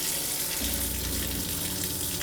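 Cold water gushes steadily from the sink faucet of a Conqueror UEV-19 camper trailer in below-freezing conditions, a close, continuous hiss of flow that strengthens after the first half second, with no talking.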